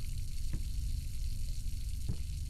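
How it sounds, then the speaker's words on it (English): Wine pours from a faucet in the horror game Layers of Fear, a steady liquid stream running unbroken at low level, with two faint clunks partway through. "He has a wine faucet."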